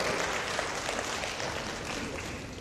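A crowd applauding at a self-development lecture, dense steady clapping from many hands, loud and continuous throughout.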